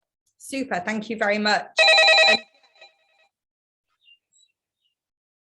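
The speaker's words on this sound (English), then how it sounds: "yeah, sorry, that was my phone" Right after a short spoken phrase, a mobile phone gives a brief, bright electronic ring lasting under a second, then fades to near silence with a few faint trailing tones.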